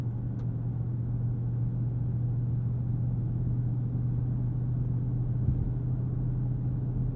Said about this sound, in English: Let that HEMI V8 go on holiday at a low murmur in the background.